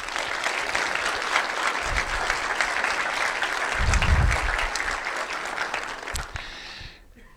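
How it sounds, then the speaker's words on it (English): Conference audience at a programming event breaks into sustained applause that builds to a louder peak midway, then tapers off near the end with a brief lull. "I would like to have a big applause for all of the people who are behind the code dive."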